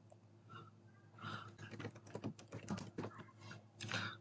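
Fingers typing on a computer keyboard while entering data into an Excel spreadsheet, a quick, close run of soft key clicks with short pauses, faint and steady over a low background hum.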